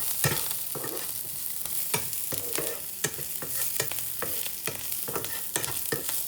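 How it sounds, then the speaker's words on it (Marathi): Chopped onion fries in a pan in a home kitchen, a steady hiss of sizzling punctuated by clicks and scrapes of stirring, close and continuous with no voices. "तर मित्रांनो आपला कांदा आता भाजतोय"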